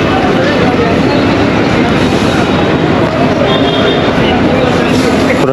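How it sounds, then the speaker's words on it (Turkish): Dense, loud ambient roar of Colombo Fort train station in Sri Lanka, rumbling rail noise blended with crowd murmur and indistinct voices. "Bizim hostele yakın merkez tren şubesi burası."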